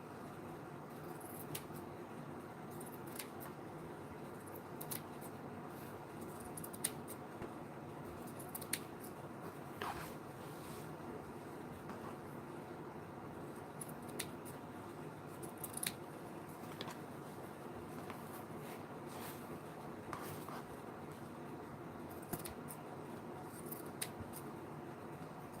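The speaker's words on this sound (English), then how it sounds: "I'm just cutting the trim off then." Scissors snip through paper trim being cut off a handmade journal, a series of quiet, irregular crisp cuts spaced a second or two apart over a low steady room hum, with no talking.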